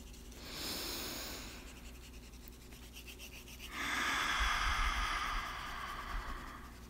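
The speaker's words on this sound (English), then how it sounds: "let's take another big, deep breath" A slow, deep breath taken during a calm drawing meditation, a soft airy inhale followed by a longer and fuller exhale, quiet and close with no talking.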